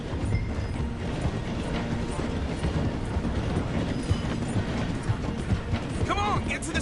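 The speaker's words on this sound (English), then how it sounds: "The train is slowing down to go through the station." A train rolls along its track in Red Dead Redemption 2, slowing through a station while horses gallop alongside, a dense steady mechanical rumble with clip-clop hoofbeats and faint game noise mixed in.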